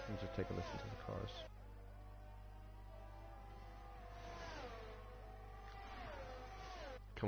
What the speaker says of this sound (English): Let's just take a listen to the cars.